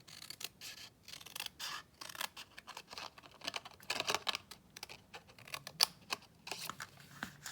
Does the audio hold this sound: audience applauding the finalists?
no